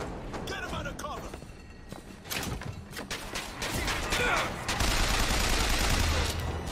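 Gunfire in BioShock Infinite comes as sharp shots and bursts amid movement and clatter, growing denser and louder toward the end, with someone talking over parts of it.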